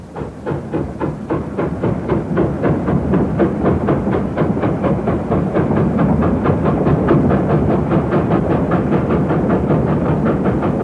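A crowded train rolls steadily along the rails, its rapid, regular clickety-clack of wheels over track joints growing slightly louder and filling the whole stretch with a dense rumbling rhythm.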